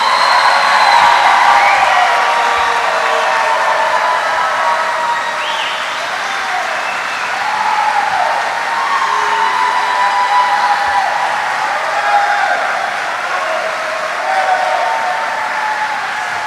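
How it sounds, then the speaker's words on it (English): A large audience at an Army flight school graduation ceremony claps steadily, a dense, sustained wash of applause in a big hall, with faint cheers and a whoop or two under it. "Please join me in a round of applause for the Army's newest aviation warfighters."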